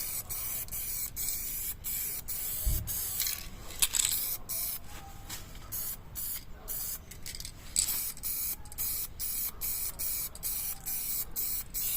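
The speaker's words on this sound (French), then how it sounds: "J'ai juste repeint la marche. Ça coûte rien. Regarde, une bombe à peine." Spray paint being applied from an aerosol can to the grille steps of a Mercedes Actros MP4 truck, a continuous close hiss broken by short bursts and a few clicks, with faint background sounds and no clear speech.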